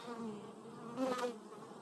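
Honeybees busy on comb inside a hive, a close, dense buzzing drone with a brief louder swell as a bee passes near, lasting under two seconds, no talking.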